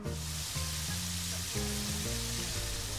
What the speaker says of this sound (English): and start frying it.